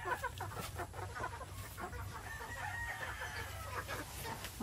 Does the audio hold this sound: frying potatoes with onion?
no